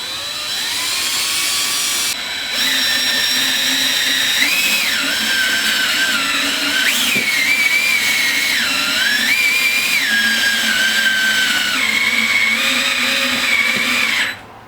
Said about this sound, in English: so we're going to go ahead and compress the spring